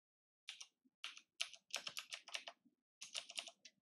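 Rapid bursts of crisp key clicks from a computer keyboard as a Google search is typed. The clicking is close and quiet, in several quick clusters separated by brief silences.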